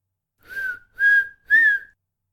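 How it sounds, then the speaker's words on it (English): A person whistles an animal call in three clear, sustained rising tones with short pauses between them, loud and close, with no other sound behind it. "just whistle that way to him"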